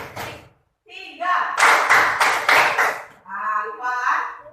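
A class doing rhythmic clapping: a run of sharp, evenly spaced group claps in the middle, with a teacher's voice leading before and after.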